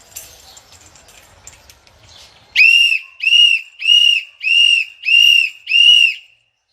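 Six short, even whistle blasts in a steady rhythm, loud and close. They follow a few seconds of faint, indistinct background sound.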